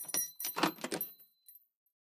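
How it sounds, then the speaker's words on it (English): A ring of keys is pulled out and a front door opened: close, jangling metallic bursts over about a second, then a brief softer click before quiet. "I took out my keys and opened the door"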